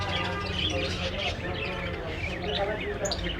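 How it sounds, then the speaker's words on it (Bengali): Many pigeons and other caged birds at the Himayetpur bird market chirp and call continuously at a moderate distance, with a steady market din underneath. "কত বড় কবুতর পাখি আছে ময়ূরভঙ্গি যে এখানেও আছে।"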